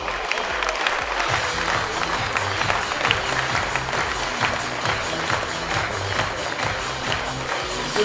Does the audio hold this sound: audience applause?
yes